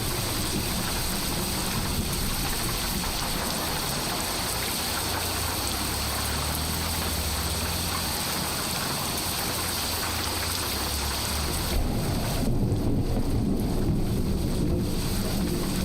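Steady rainstorm in American Truck Simulator, a dense continuous hiss of rain on the truck with low rumbling road and wind noise underneath, shifting brighter and heavier near the end, no talking.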